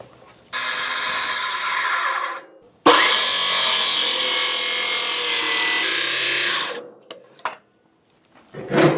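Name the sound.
saw cutting birds mouth in wooden roof rafter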